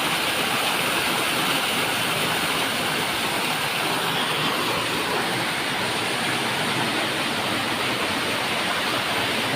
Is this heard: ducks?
no